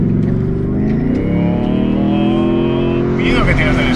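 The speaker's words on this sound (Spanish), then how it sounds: "ruido que tienes del escape es inigualable" A Ford Mustang Dark Horse V8 revs loudly up close, its exhaust note climbing and falling in pitch through several throttle blips, with a voice speaking briefly over the engine.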